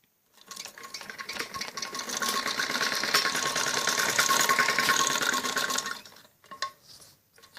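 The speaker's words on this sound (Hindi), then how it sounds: "हमें गोलाई में मशीन चलानी होती है" An electric sewing machine stitching the curved back neck of a kameez, its motor whirring up into a steady rapid run for several seconds before slowing and stopping, with a few short bursts at the end.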